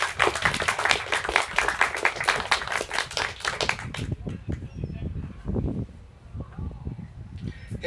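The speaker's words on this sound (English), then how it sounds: "Another round of applause" Audience applause at a university student storytelling showcase, a burst of dense clapping that thins out halfway through, leaving a few scattered claps and some rustling.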